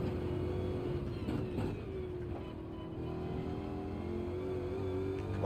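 A racing car's engine in a racing video game drones steadily at high revs as it accelerates, a constant loud buzzing whine with slight pitch rises, heard alone without talk.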